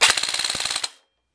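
A custom M16 airsoft rifle fires a fast full-auto burst of about a dozen crisp, evenly spaced cracks, close and clear, ending abruptly after under a second.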